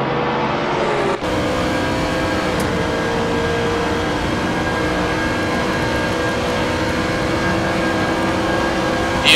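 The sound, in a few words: Aston Martin race car downshifting and upshifting through the gears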